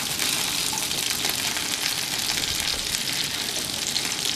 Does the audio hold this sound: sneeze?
no